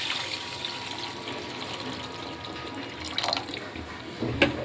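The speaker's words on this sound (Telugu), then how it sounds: "ఇప్పుడు వాటర్ వేసేసుకుందాము. నేను 1 కప్పు సేమియాకి 2 కప్పులు వాటర్ అయితే వేస్తున్నాను." Two cups of water are poured into a pan of roasted vermicelli for upma, making a steady, close splashing and gurgling stream that swells near the end, with no voices.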